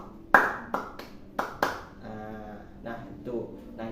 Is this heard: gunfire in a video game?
no